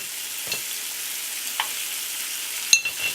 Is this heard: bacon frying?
yes